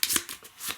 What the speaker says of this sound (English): We are going to shuffle these.